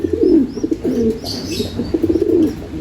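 A male pigeon in a loft calls to a female in close, loud, rhythmic coos, each a throaty rolling phrase, repeated several times with faint background rustle and no speech.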